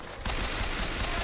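A short, dense burst of rapid gunfire from a firefight in Bioshock Infinite begins suddenly and stays loud and steady to the end.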